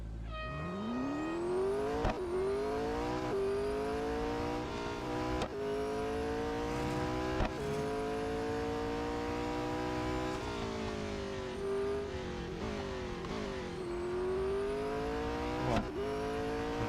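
A race car engine in the Real Racing 3 video game runs an autocross event around Mount Panorama. It revs and whines steadily with repeated gear shifts rising and falling in pitch, loud and continuous throughout.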